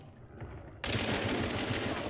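Gunfire in Hunt: Showdown, a sudden loud burst that breaks in partway through and holds as a dense, rumbling roar of shots and echo to the end.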